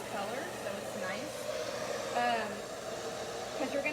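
Hair dryer blowing to dry paint on wooden craft letters, a faint steady airy whoosh running throughout, with a person talking over it.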